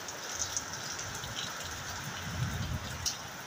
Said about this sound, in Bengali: এই দেখো বৃষ্টি শুরু হয়েছে আমাদের এখানে